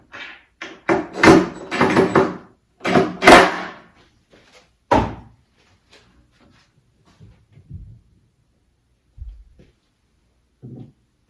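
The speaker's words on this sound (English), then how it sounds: "that is the soft close feature" A concealed hinge on a shaker cabinet door closes with its soft-close feature: a run of close wooden knocks and clunks, then a few soft, muffled bumps as the door settles gently shut.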